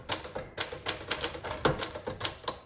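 Keys clack sharply on a 1950 Smith Corona Sterling manual typewriter, a quick uneven run of about a dozen close, crisp strikes with no voices.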